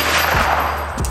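Q Fix 6.5 Creedmoor rifle shots fired in rapid succession at an outdoor range, two sharp loud reports about half a second apart within a brief burst of noise.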